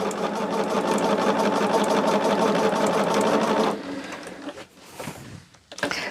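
A sewing machine runs steadily for several seconds, stitching pieced half square triangles for a quilt, then stops and leaves a few soft handling noises and quieter shuffling.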